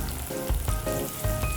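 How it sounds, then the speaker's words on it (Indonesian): Chopped shallots sauté in oil over a moderate flame, giving a steady close sizzle and crackle with a few soft stirring scrapes and no talking. "Kita tumis sampai dia menjadi seperti bawang goreng ya"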